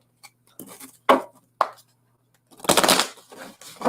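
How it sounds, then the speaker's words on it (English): Tarot cards shuffled by hand in a few brisk bursts, short riffles and slaps with a longer flurry near the end, close and fairly loud with quiet gaps between. "let me mix up my cards really good"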